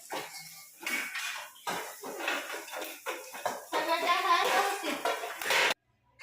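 Metal thali plates and utensils clatter and scrape in a home kitchen, with repeated clinks and knocks of varying loudness and a brief pause near the end.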